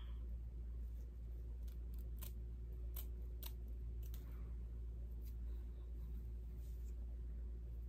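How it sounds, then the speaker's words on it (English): Scissors cutting lace along the hairline of a blonde ombré lace front wig, giving a string of faint, close snips over a steady low background hum. "you're gonna take your scissors and you're gonna cut along the hairline"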